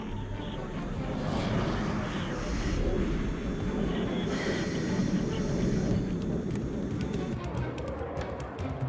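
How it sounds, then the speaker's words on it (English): F-15 fighter jets fly over canyons in a steady, loud engine roar that holds for the whole stretch, with faint radio chatter underneath. "Here, a squadron of F-15 search enemy territory for potential targets."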